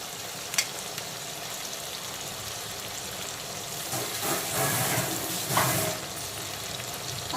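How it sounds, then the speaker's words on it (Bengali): Whole-spice paste and turmeric powder hit a hot pan for a fish curry with ridge gourd and green banana, giving a steady close sizzle and hiss that swells louder toward the end, with no talking. "এখন দিয়ে দিচ্ছি সমস্ত গোটা মশলার মিহি পেস্ট, আর তার সঙ্গে হলুদের গুঁড়োটাও আমি দিয়ে দিয়েছি।"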